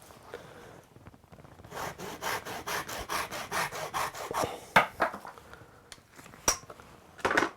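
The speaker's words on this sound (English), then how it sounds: "now I'm going to cut the end off with a Japanese saw" A Japanese saw cuts the end off wooden chopsticks with a run of about a dozen quick, rhythmic rasping strokes, a pause, then a few more short strokes up close.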